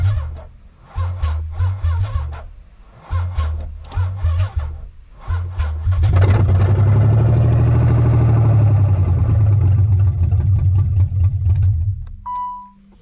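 A Nissan 300ZX that had sat unused for six years cranks over in several repeated bursts, then catches and settles into a loud, steady idle close by before cutting off near the end.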